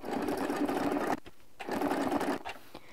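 A sewing machine stitches during ruler-guided crosshatch quilting, running in two steady whirring bursts separated by a brief stop, close and fairly loud, with no voices.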